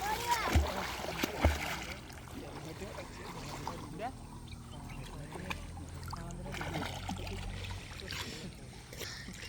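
A pet dog named Leo swims and splashes in a river at sunset, with a few sharp splashes early on, then softer lapping and trickling water under quiet background sounds.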